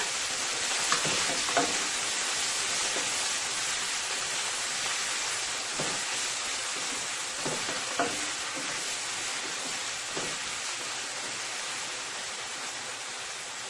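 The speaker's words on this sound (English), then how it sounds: "All that seasoning is frying up nicely there." Seasoning sizzles steadily in a hot pot for a Caribbean-style striped bass stew, a constant bright hiss with occasional scraping stirs.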